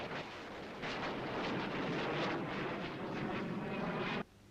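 An HAL Ajeet fighter jet of the Indian Air Force roars past, a loud, broad jet rush that builds after the first second, holds steady, then cuts off sharply just before the end.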